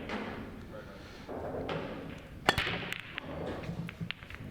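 A pool break shot by Chris Melling in a Pro Series 2023 match: one sharp, loud crack of balls colliding, followed by a scatter of lighter clicks as they spread, over steady crowd and room murmur.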